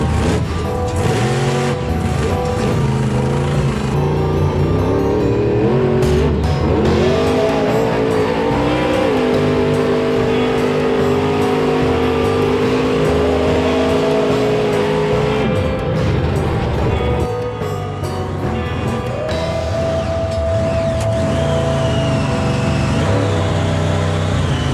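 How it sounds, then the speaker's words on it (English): Grave Digger monster truck with big tires, four-wheel drive and a huge engine, its motor droning and revving steadily throughout with shifting pitch, loud and close, no speech over it. "Because of my big tires, four-wheel drive, and huge engine, I can go anywhere"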